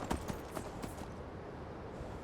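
Horse hooves clip-clop in Skyrim Special Edition, a few quick, faint hoofbeats early on that fade into a steady low ambient rumble.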